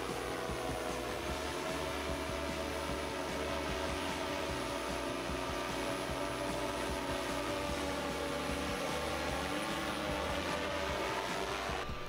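A delivery drone cruising in the distance gives off a constant, even propeller whine and hum with no pauses, steady in loudness throughout.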